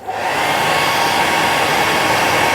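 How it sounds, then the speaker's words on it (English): A hairdryer blows steadily and loudly while shaping a fly-tying nymph, a constant rushing whoosh of air from start to finish with no voices. "Now what I like to do is just blow the hairdryer through it."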